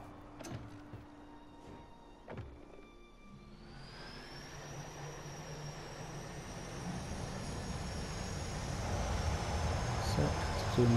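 Airplane engine in the video game Just Cause 3: after a few sharp clunks, a steady engine drone rises and swells with a whining high tone, growing louder toward the end.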